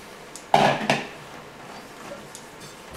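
A butter and flour roux cooks gently in a pan as a utensil stirs it, giving a couple of sharp scraping clinks against the pan followed by faint soft scraping, close and quiet, with no speech.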